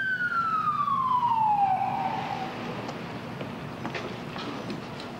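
Police car siren from 1992 Los Angeles riots news footage in Hollywood, a loud wailing tone sweeping downward over the first two seconds, then fading into distant street noise with faint crackles.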